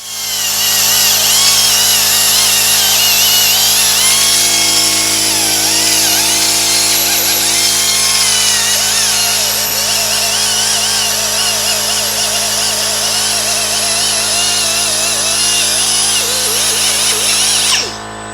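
A power tool cleans the rotor mounting surface during a front brake job on a 2022 Toyota Tundra, giving a loud, steady, high-pitched whir that runs nearly eighteen seconds before cutting off abruptly.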